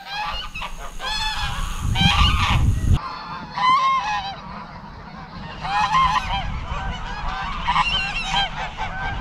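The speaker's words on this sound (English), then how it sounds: "The ducks are back." Waterfowl at a pond in the Vale of Belvoir honk loudly and repeatedly in an overlapping, clamorous chorus, close and continuous with no talking over them.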